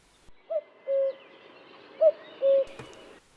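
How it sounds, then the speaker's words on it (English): A male cuckoo calls twice in the New Forest in spring, each a clear two-note cuck-oo with a short first note and a longer, lower second note, fairly close and alone over quiet surroundings. "The familiar sound of the cuckoo can be heard from late April and throughout May."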